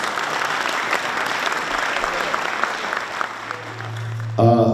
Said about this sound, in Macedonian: Да го поздравиме со аплауз.